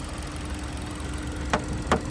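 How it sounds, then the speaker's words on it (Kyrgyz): A 2018 Kia Rio X-Line with a 1.4 engine and automatic gearbox idles with its hood open, giving a low, even hum broken by two sharp clicks close together near the end. "Мотор жагы чөткү оталып турат."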